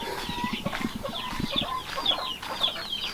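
Several chickens cluck softly nearby in short, irregular bursts, with a few higher squawks over a quiet outdoor background.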